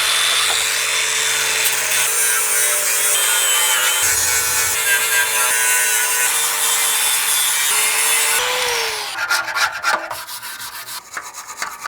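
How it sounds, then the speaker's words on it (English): A grinder scours rust off the metal of a Land Rover Defender, sending out a loud, continuous, harsh abrasive roar for about nine seconds before breaking into scattered scraping bursts. "then we'll get the grinder on it and flatten it all back"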